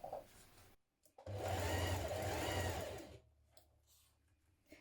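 A sewing machine runs in one steady burst of about two seconds while stitching a 6mm seam around the neckline of a spring dress, loud and close, with brief handling noises before and after.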